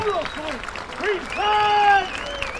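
Crowd applause at the Tynwald open air ceremony, a round of outdoor clapping beneath someone speaking over it, with whistling bird calls threaded through.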